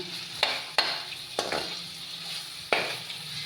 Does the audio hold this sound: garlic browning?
yes